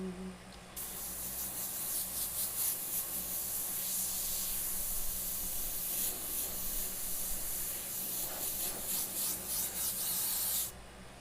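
Airbrush spraying dark paint onto a zombie painting: a close, hissy spray of air and paint in short, uneven bursts that rise and fall over about ten seconds, starting and stopping sharply.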